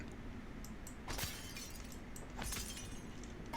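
Glass shatters twice in the Prey video game, each a brief bright crunching burst over a low background hum, fairly quiet and with no voices.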